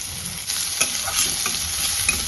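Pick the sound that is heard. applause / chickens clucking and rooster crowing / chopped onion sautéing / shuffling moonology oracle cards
chopped onion sautéing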